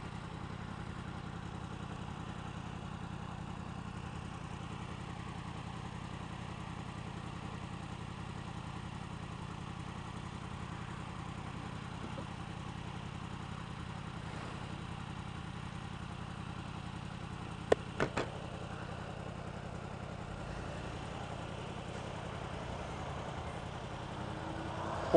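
A 2016 Yamaha R1 motorcycle engine idles or putters along at an even pitch for the whole stretch, with a couple of brief clicks near the end and no talking.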